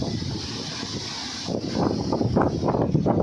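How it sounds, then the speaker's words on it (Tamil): Strong gusty wind roars past a bypass road, buffeting the microphone with a steady loud rush that swells into heavier rumbling gusts. "இந்த ஊரில் சூறாவளி காற்று அடிக்கிற மாதிரி அடிக்க பாருங்க."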